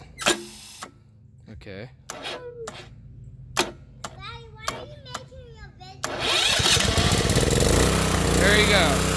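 A pressure washer with a Yamaha engine starts and then keeps running. A few sharp cranking pulls and clicks come first under brief talk, then the engine catches and settles into a loud, continuous steady roar that lasts to the end.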